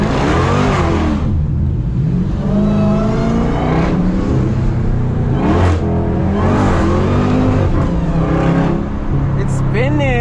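A Dodge Durango SRT Hellcat roars close and loud as it launches, the engine note sweeping up through several gear changes with brief dips between, while voices speak over it.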